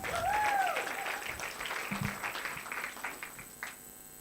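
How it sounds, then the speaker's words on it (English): An audience applauds at a conference on the Kenya nutrient profile model, a dense burst of clapping that swells and then gradually thins out, with a few cheers at the start. "Another round of applause"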